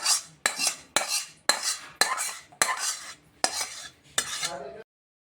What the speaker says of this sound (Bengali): বোলের মধ্যে আমি সেমাইয়ের হালুয়াটা ঢেলে দিচ্ছি